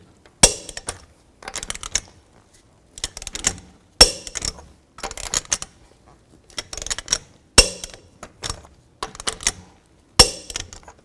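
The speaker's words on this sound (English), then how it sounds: "Now I'll torque these lug nuts to 140 foot-pounds in a star pattern." A torque wrench tightens lug nuts on a 2007-16 GMC Acadia wheel, giving sharp ratcheting clicks in short bursts separated by pauses, close and clear with no talk.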